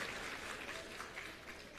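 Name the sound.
applause for the children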